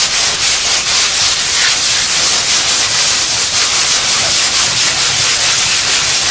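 Loud, continuous abrasive hiss of sanding on the surface of a concrete canoe, close and steady without pauses, with no voices.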